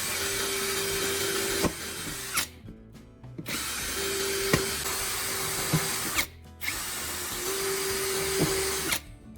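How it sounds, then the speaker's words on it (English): A power drill whirs steadily in bursts, drilling drainage holes in plastic and pausing briefly between each hole, close and loud with a faint high whine running through it. "Then drill several holes on the bottom for drainage."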